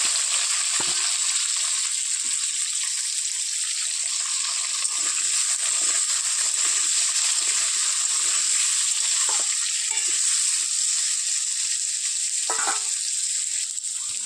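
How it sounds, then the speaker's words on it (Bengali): Papaya pieces fry in hot oil in a wok, making a loud, steady hiss and sizzle that carries on without a break, with occasional soft stirring scrapes and no voices. "তেল গরম হয়ে গেছে, এবার পেঁপেগুলো দিয়ে দেবো।"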